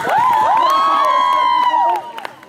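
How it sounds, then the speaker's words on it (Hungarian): Crowd at a December advent concert in Pápa cheers and whoops for a lady, a loud sustained shout rising over the noise for about two seconds before it drops away. "én tapsot szeretnék kérni a hölgynek"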